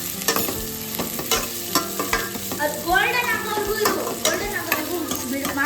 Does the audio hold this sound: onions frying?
yes